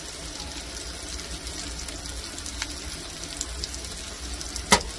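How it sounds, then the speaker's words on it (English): Bacon frying in an open pan with the lid off, a steady fine sizzle and crackle running throughout at moderate level, with one sharper pop near the end. "And I'm going to add some of the bacon."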